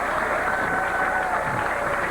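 Steady crowd applause at a 1995 professional bowling title match in Baltimore, a continuous broad wash of clapping with faint voices mixed in, sustained at an even level throughout.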